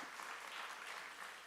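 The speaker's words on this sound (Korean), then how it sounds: "박수 한번 하시겠습니다" A church congregation claps in a sustained, even patter of applause, fairly faint and with no voices over it.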